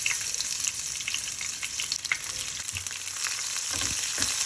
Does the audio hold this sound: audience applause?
no